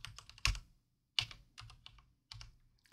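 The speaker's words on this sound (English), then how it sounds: "All right, so we type in our initial password" A password is typed on a computer keyboard in short clustered bursts of crisp key clicks separated by brief pauses, close and fairly quiet with no voices.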